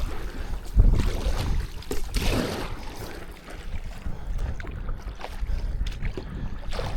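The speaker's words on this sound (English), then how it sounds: "I guess I'm going deeper with the paddle. Plus I'm more like kayaking like this." Inflatable paddle board being paddled through water, with a deep kayak-style stroke; soft splashes and water swirls recur every second or two, close to the microphone, over a steady wash of outdoor wind noise.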